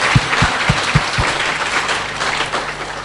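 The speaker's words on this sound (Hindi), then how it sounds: "एक बार खड़े होकर उनकी इस कलाकारी के लिए जरा जोरदार तालियां बजाएं" Audience applause after an actor's performance at a live interview event, a dense steady wash of clapping filling the room, with a few louder low thumps near the start and no talk over it.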